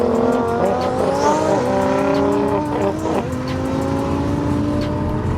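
Drag cars in a street roll race scream loudly through the gears, several engine tones climbing together with shifts and dips, close and continuous.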